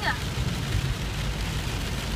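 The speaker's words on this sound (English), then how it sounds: "It's raining." Rain falls steadily outside as a dense, constant hiss and patter with broadband wash and low rumble, close and unbroken, while a voice speaks over it.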